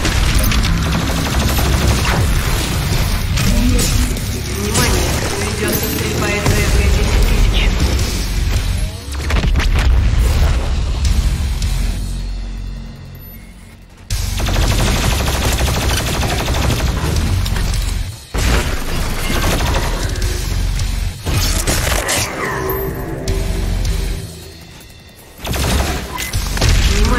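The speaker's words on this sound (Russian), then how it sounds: "ведется стрельба из БФГ-10000." BFG-10000 fire and other heavy weapons in the game DOOM Eternal: loud, dense volleys of booming blasts and rapid gunfire, with sharp cuts and brief lulls between bursts.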